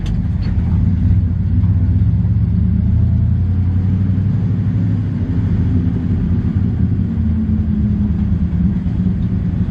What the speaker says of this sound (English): it's time to do a little off-roading, which is always fun in the old truck